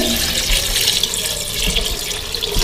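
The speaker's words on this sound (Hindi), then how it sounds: "कीमे को गलने के लिए इतना पानी डाल देंगे कि हमारा कीमा भी गल जाए" Water is poured into minced meat in a pot before pressure cooking, giving a steady close rushing, splashing sound that runs throughout.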